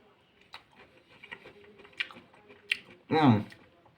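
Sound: chewing raw carrot from a hot dog

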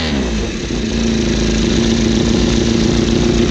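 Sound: motorcycle engine exhaust sound

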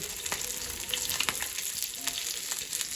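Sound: fish frying in a pan

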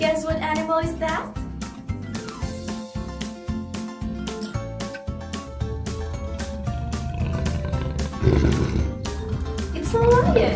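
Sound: lion roaring

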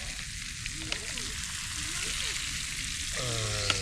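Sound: garlic and peppers frying in a pan

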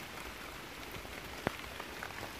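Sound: rain falling

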